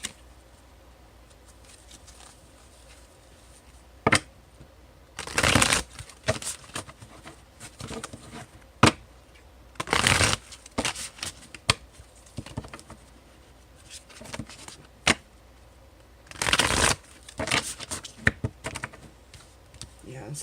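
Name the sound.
shuffling Psychic Tarot cards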